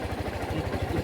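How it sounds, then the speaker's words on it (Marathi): A motorcycle that started on one kick idles close by with a fast, even, low thudding beat, and there is no talk. "वन किक स्टार्ट झाली गाडी"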